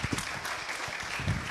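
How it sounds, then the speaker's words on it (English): An audience at a live comedy evening claps steadily, a brief wash of applause at moderate loudness with no pauses. "Can we give one more round of applause for"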